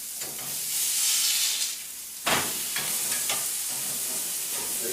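Hamburgers sizzling in a pan on a hot wood-burning cook stove, a broad steady hiss with brief stirring or scraping bursts, close and continuous without any talking.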